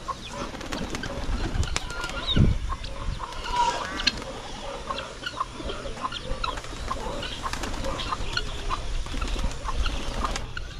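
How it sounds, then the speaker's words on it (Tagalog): Pigeons released from their coop, with bursts of wing flapping and scattered bird calls, plus chickens and ducks clucking nearby in a farmyard setting, at moderate to faint level. "Palabasin muna natin yung ating mga kalapate."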